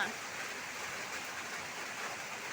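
Steady rain falls outdoors in a garden where vegetables are grown in pipes, a continuous even hiss with no talking over it.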